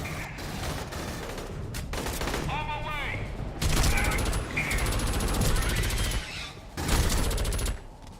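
Sustained automatic gunfire from the Aliens: Colonial Marines video game, loud bursts rolling on for several seconds with a brief mechanical whine in the middle and voices talking over the shooting.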